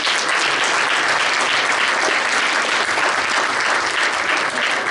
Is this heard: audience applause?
yes